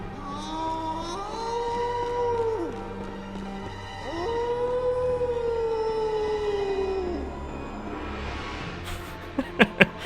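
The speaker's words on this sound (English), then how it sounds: "Bark at the moon, Mikolash." Mikolash, a character in the Bloodborne video game, lets out long, sliding wails at the moon, two drawn-out rising and falling cries that sound eerie and siren-like, followed near the end by a few sharp clanks.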